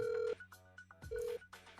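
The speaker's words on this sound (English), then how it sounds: "Can one of the mods put in a phone call right now, please?" Telephone keypad dialing tones placing a call into a live podcast: a few clear, steady electronic beeps separated by short gaps, fairly loud with no talking over them.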